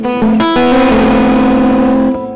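A distorted electric guitar plays a couple of quick choppy, palm-muted hits, then lets a loud, buzzing chord ring out before it fades.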